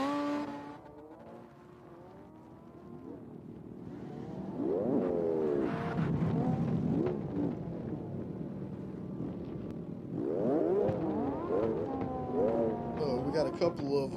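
Drift cars running side by side in a slide style tandem run at an open practice session, engines revving with rising and falling sweeps in two loud bursts, with wind noise and a voice talking throughout.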